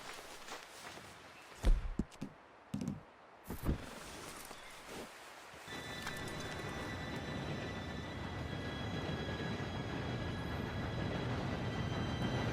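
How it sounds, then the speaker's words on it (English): A steam train in Red Dead Redemption 2 rumbles in, its steady mechanical roar growing louder and closer, with a high whine layered on top, after a few scattered footsteps and knocks. "Train should be here any minute now."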